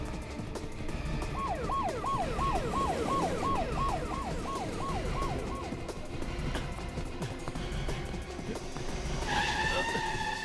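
A car tearing away in a chase scene, with screeching tyre skids and engine roar under a wailing two-tone siren that rises and falls repeatedly, busy and loud with brief voices mixed in.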